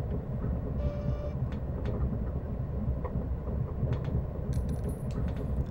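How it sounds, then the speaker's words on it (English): Steady low rumbling ambience of a land train in the video game In Cold Blood, a continuous mechanical drone with faint higher clicks and tones above it, with no voices. "just the sound of the land train."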